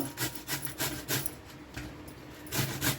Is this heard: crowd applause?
no